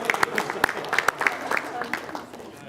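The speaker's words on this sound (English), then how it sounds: "So round of applause." A small group claps together after a team building exercise, scattered hand claps ringing out fairly close, loose and uneven in rhythm, with some murmuring voices in the room.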